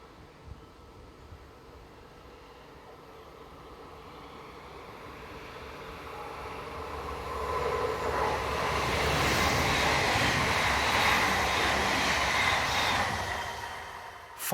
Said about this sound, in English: 424012 and 425273 pair up to form the 2028 service from Hanover to Minden